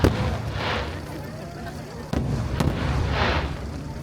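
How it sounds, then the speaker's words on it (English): Large Nagaoka fireworks explode over a festival in Japan as deep, booming bursts with rolling echoes and a sharp crack midway, loud and continuous throughout. "Look at these enormous fireworks filling the sky."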